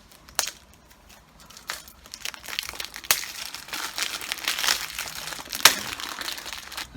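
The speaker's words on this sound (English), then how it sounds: "Let's take the plastic off though and have a look inside." Plastic shrink wrap is peeled and torn off a 4K Blu-ray case, close crinkling and crackling in irregular bursts with a few sharp tears.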